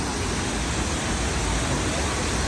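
Soochipara waterfall in Wayanad pours with a dense, unbroken roar of rushing water, loud and broadband for the whole span with no distinct events.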